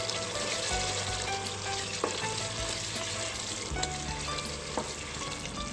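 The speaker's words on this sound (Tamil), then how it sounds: "இது கூட 1 கைப்பிடி அளவுக்கு புதினா சேர்த்துடலாம். நல்லா வாசனையாக இருக்கும். சேர்த்துட்டு இதையும் நல்லா வதக்கிடுங்க." Fresh mint leaves sautéing in a pan for tomato biryani, giving a steady close sizzle and frying crackle with occasional stirring scrapes, and no voices.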